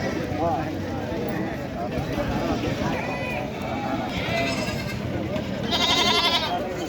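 Crossbreed goats bleat among the crowd at the rural Taherpur goat market, several calls rising over constant chatter and milling livestock, with people talking close by throughout.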